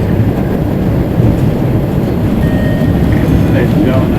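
Steady, loud rumble and roar from inside a moving MBTA Red Line subway train, a continuous broadband noise with no break, plus a faint high tone midway through.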